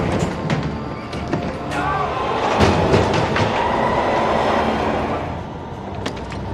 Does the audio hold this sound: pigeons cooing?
no